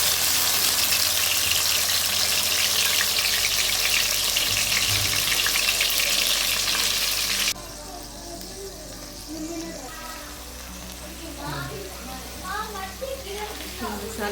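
Aloo methi being cooked in hot ghee in a pan, giving a loud, steady broadband sizzle with scraping and stirring; about halfway through the sizzle drops noticeably quieter, and a voice talks over it.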